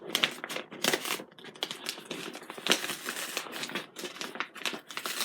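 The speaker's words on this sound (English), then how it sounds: "Let me cut this without cutting my finger, because these are my plant shears." Plant shears snip and crinkle through a well-wrapped mail package, giving a run of close, irregular crackling, rustling and cutting bursts with no talk.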